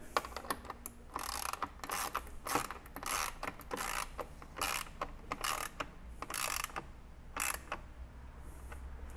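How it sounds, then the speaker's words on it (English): Bolts being tightened with a ratchet while a DIY stand for a Yamaha P125 digital piano is assembled: a run of quick, crisp clicking bursts, fairly close and steady, with no talking. "and then we'll tighten them up."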